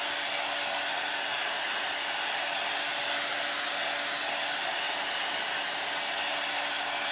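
A heat tool blows hot air onto a wooden front door sign, a loud, steady, high-pitched whooshing drone that runs unbroken throughout.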